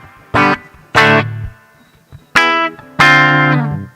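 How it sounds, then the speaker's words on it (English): Electric guitar through a chorus effect with stereo reverb, four separate strummed chords ringing out one after another with short pauses between, close and clear with shimmering tails. "But it's also putting stereo reverb on as well."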